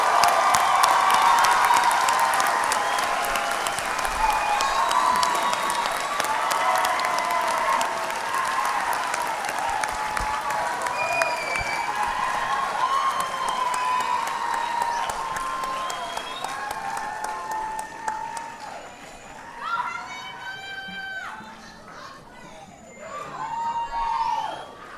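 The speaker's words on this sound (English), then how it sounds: "Big round of applause." Sustained applause from a large crowd at a Clovis Community College commencement ceremony for the class of 2018, dense and steady, fading slightly near the end, where a few scattered cheers and whistles rise above the clapping.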